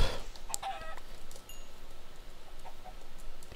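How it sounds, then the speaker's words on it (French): Chicken clucking in a farming video game, a few short clucks near the start and then faint scattered game sounds, with no voices over them. "Là, il y a un autre poulet."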